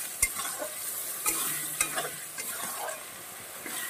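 A ground paste of ginger, garlic, cumin, coriander and turmeric sautéing in a pan, with close sizzling and several sharp scrapes and taps of a spoon as it is stirred.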